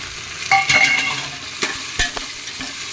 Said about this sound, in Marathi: हे दोन मिनिट परतून घेते